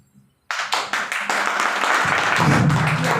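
Audience applause for a speaker at an AWPL event, bursting in suddenly and building into sustained, dense clapping from a nearby crowd, with a low hum of voices underneath toward the end.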